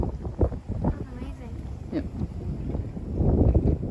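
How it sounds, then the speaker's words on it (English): Gusty wind buffets the microphone with low rumbling bursts while people talk briefly nearby, the roar growing stronger toward the end. "So windy."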